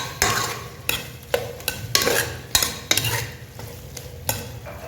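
A spoon scrapes and stirs potato mutton curry in a pot with bottle gourd, giving repeated sharp clanks against the metal over a steady bubbling sizzle, close and fairly loud.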